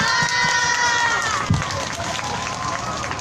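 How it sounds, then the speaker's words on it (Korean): Crowd at a Wednesday rally in Korea over Japanese military sexual slavery clapping and cheering loudly, a sustained wash of claps with shouts, under a voice over a PA system. "여러분의 힘찬 박수와 함성으로 시작하겠습니다"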